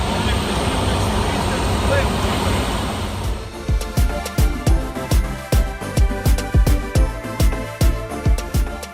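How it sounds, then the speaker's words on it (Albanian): A nine-seat Cessna flying in to land at Mara Serena Strip, an unpaved dirt airstrip in Masai Mara, Kenya. A steady engine and cabin roar fills the first three seconds, then loud rhythmic music beats take over, with talk over it. "Udhëtimi për Masai Mara zgjat thuajse një orë, me një avion Cessna 9 vendsh."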